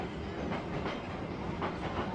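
A passenger train runs on rails in Vietnam, a steady loud rumble with rhythmic clickety-clack of wheels over the joints, heard from on board without talking.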